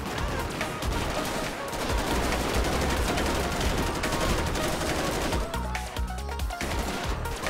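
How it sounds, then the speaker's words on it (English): Sustained gunfire in the GTA 5 video game during a military/SWAT patrol, dense overlapping bursts of automatic fire and shots rattling continuously and loudly throughout. "Who's shooting us like that?"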